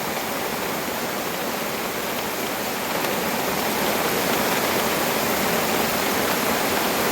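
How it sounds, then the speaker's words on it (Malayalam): Heavy rain pours outdoors in a steady, dense rushing hiss, close and constant, swelling slightly louder partway through with no voices over it. "നല്ല പെയ്ത്താണ് ഇപ്പൊ പെയ്യുന്നത്"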